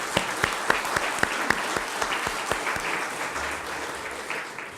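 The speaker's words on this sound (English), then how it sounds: "Let's give them all a round of applause." A few sharp, evenly spaced claps open into broad, steady applause as an Arkansas environmental awards audience honors state representatives; the clapping sounds moderately close and runs without talk before thinning near the end.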